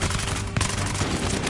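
Gunfire in Battlefield Hardline: rapid, loud, continuous bursts of automatic shots close by, filling the whole moment with dense crackling reports.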